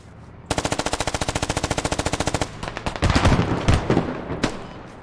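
Rapid machine gun fire in a tactical shooter match, a long sustained burst of evenly spaced loud shots followed by scattered shorter bursts and distant gunfire.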